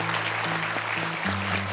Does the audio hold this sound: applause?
yes